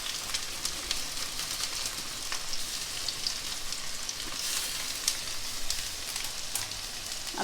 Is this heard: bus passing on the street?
no